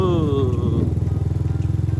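A motorcycle engine runs steadily close by while riding at night on a road test of a 2.5-inch bi-LED headlight, giving a continuous low, pulsing drone with a voice briefly heard at the start.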